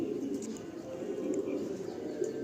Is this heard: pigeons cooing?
yes